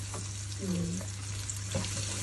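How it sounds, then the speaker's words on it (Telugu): Onions sizzle in a home-kitchen pan with a quiet, steady frying crackle, under a low hum and brief clatter. "ఇప్పుడు ఆనియన్స్ వేసాను"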